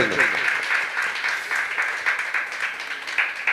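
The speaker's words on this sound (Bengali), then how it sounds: "একটা জোরদার হাততালি প্রত্যেকের জন্য" Loud, sustained applause from an audience honouring artists at a jatra theatre troupe's opening ceremony, a thick steady wash of many clapping hands with some voices underneath.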